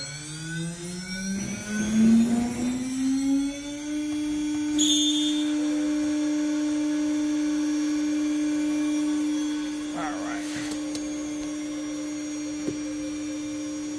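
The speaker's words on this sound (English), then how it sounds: "And then here I have my CNC machine" A CNC machine cutting acrylic spins up to a steady, high whine that holds for a long stretch, with a few clicks and rattles over the running motor.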